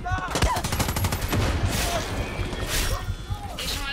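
Gunfire in the video game Far Cry 6 on hardcore difficulty: rapid, close bursts of automatic shots over a dense, busy game soundscape, with someone talking over the action.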